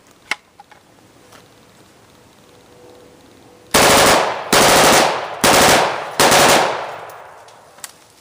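An AR-15 with a slide stock bump firing at a TV: four loud, very rapid bursts of automatic-sounding gunfire separated by short pauses, following a few faint clicks and taps in a quiet outdoor setting.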